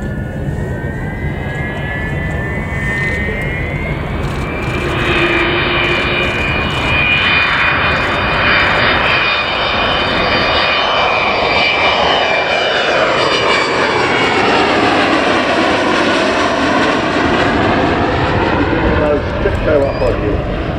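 An Avro Vulcan XH558 bomber passes overhead in missing man formation at the Yorkshire Air Show 2015, a loud sustained jet roar with a rising then sweeping whine that peaks and fades, voices faintly beneath.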